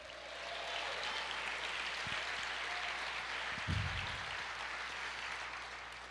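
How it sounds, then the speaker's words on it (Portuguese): Congregation in a church applauding, a broad even wash of clapping that holds steady for several seconds, with a couple of low thumps partway through. "Aplauda o Senhor, diga: eu creio."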